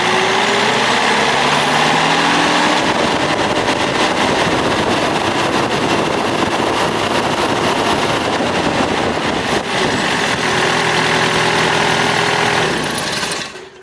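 A 2011 John Deere 1600 wide area mower engine runs loud and close at a steady roar, with the intake pulling hard under throttle, before cutting off abruptly at the end.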